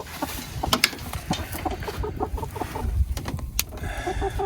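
Hens clucking in a coop beside an injured hen, a busy mix of short clucks and squawks close by, irregular and overlapping with faint farmyard background throughout.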